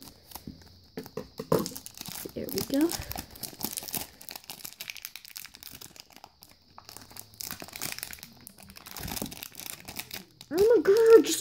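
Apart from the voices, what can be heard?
puzzle packaging cut and torn open with scissors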